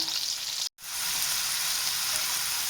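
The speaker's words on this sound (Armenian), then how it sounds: "Հիմա նույն թավայի մեջ սկսում ենք տապակել սոխը։" Chopped onion frying in the same pan used for chicken, a loud close steady sizzle that cuts out for an instant and then resumes evenly.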